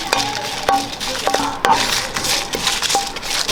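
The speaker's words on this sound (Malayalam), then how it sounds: "ഒരു പത്ത് ബിരിയമുളക് എടുത്തിട്ടുണ്ട് അത് നമുക്കൊന്ന്" About ten dried red chillies are dry-roasted in a pan for a Kerala ivy gourd stir-fry, giving a steady scratchy rustle broken by sharp clinks and scrapes of a spoon against metal, close and without talk.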